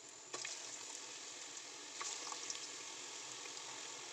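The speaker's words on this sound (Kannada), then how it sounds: "ನೋಡಿ ಇವಾಗ ಎಣ್ಣೆ ಕಾದಿದೆ. ಇವಾಗ ಒಂದೊಂದನ್ನಾಗೆ ಎತ್ಕೊಂಡು ಹಾಕ್ಕೊಳ್ಳೋಣ." Bonda frying in hot oil gives off a steady, dense sizzle close by, with a couple of brief louder crackles and no voices.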